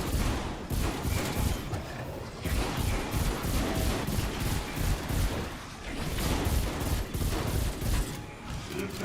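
Rapid gunfire from the video game Modern Warfare's Dark Aether mode, a dense, continuous barrage of overlapping shots with bursts and brief dips, loud and close throughout with no talk.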